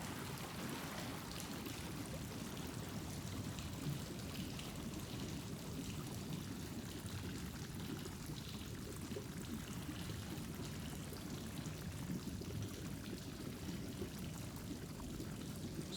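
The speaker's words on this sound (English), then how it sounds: "all we have to do is pull the lever on the left here, and that should drain out the water." Water drains out of a flooded forge in a fantasy video game, a faint, continuous pouring and streaming rush that stays even throughout with no voices.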